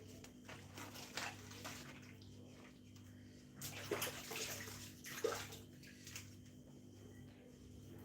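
Water pours steadily during a spice rack cleanup, a faint running and splashing flow with a few louder gushes and spatters over a low background hum.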